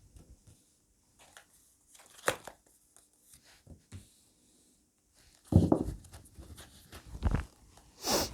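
Tarot cards being shuffled and drawn, heard as scattered soft papery rustles and flicks with a few louder shuffling bursts, close and intermittent in a quiet room.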